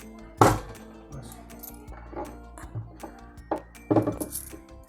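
Small spiky wild fruits being cracked open by hand, giving several sharp close cracks and knocks at irregular intervals against a quiet background.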